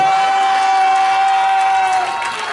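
A church congregation cheers and shouts in acclamation of the Lord, a dense, steady crowd roar with scattered whoops that thins slightly toward the end, and a sustained tone rings through most of it.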